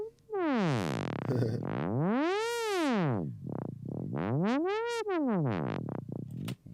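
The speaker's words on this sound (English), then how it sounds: "This is a Squelch sound." A psytrance-style squelch synth patch from the Alaskan Bites VST plugin, made with sine-wave modulation: repeated rubbery, wet pitch sweeps rising and falling in arcs, some long and some short and quick, loud and alone with no talk.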